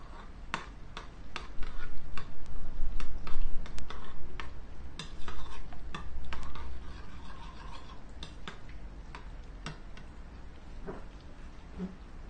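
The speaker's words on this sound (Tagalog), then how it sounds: "Halo lang natin siya" A spoon stirs tofu sisig with lemon sauce in a pan, making scattered clicking and scraping taps at an uneven pace. The sounds are moderately close, busier in the middle and thinning out toward the end.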